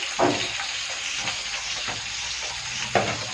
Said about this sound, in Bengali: এদিকে দেখো মাছ ভাজা চাপিয়ে দিয়েছি